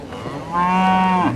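Beef cattle at a livestock breeding show bellow with one loud, close moo that swells midway and holds for under a second, rising out of a low murmur of background noise.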